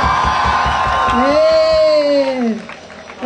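At the finale of a zombie walk in Mérida, a crowd cheers loudly, with rising whoops and shouts rising above the dense, steady noise of the gathering, close and full for a few seconds before briefly easing.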